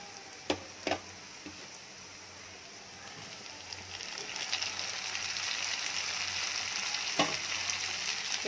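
Chopped tomatoes and onions sauté in a pan for an egg curry, a soft steady sizzle that builds gradually, with a few sharp spoon knocks against the pan near the start and end.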